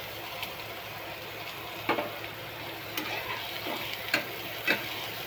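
Oil added to a pan of moth bean curry with green chilli, sizzling steadily with a soft frying hiss, broken by a few sharp clicks and taps of a utensil against the pan.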